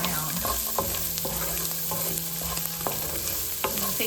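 Garlic and chickpeas sizzle steadily in a hot pan while a utensil stirs them, with clear scraping strokes recurring every second or so over a constant frying hiss.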